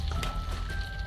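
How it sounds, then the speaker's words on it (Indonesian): Bananas coated in flour batter fry in hot oil, giving a steady close sizzle and crackle throughout the short stretch, with no talking over it. "Ini minyaknya udah tak panas. Oke, tinggal goreng aja."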